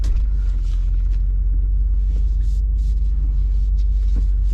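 Engine of a rusted Ford F350 Powerstroke truck running steadily, a deep continuous low rumble with a faint higher whine, close and unbroken throughout.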